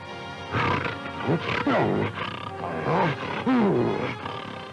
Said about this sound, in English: one of the big cats may fly into a blind fury, clawing, clashing, roaring with rage.